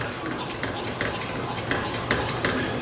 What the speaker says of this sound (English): you're just gonna sit here and stir it the whole time